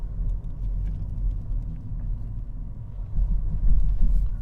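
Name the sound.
car driving on a road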